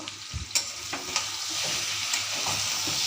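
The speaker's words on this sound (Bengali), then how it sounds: "আরও 5 মিনিট ভালো করে কষাই নেব।" Raw jackfruit with spices stir-fried in a pan: a steady hiss of frying with a few scrapes and knocks of stirring, close and moderately loud, no voices.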